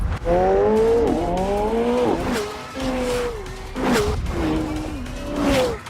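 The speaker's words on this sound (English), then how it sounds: "His black and red supercar sounded crazier when it was showcased on car racing shows, because it can easily go over 200 miles an hour." A black and red supercar revs hard through repeated shifts while tires squeal in sharp bursts, loud and close, with rising and falling engine pitch and no talking.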